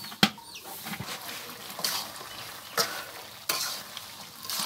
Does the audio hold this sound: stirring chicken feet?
yes